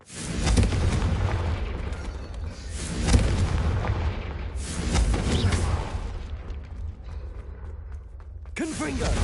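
Confringo fire spells cast in Hogwarts Legacy on PS5 burst into a series of heavy, rumbling explosions, several big blasts rolling one into another with creaking, crackling debris between them, close and loud.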